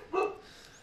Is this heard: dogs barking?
yes